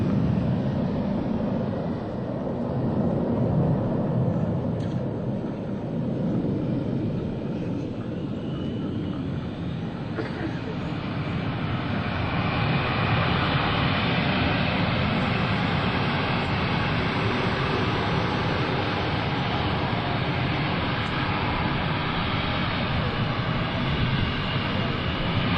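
US Navy Blue Angels jets fly at the 2003 Vectren Dayton Airshow, a continuous loud roar of jet engines that builds slightly in the middle and stays steady throughout, with no voices.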